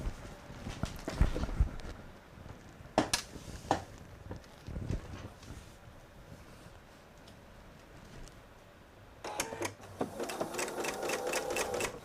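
A sewing machine stitches patriotic nine-patch quilt pieces in short loud bursts of rapid needle clatter, separated by quieter pauses with handling noise, ending in a longer steady run.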